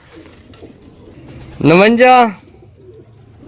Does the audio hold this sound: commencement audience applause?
no